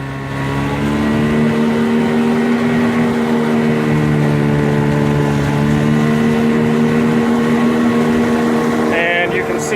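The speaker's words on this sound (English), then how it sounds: "Having a little bit of problems with the 8-horse today and the strong current" A small 8-horsepower outboard motor drives a boat up a bayou against a strong current, droning loudly and steadily with a constant harmonic hum throughout.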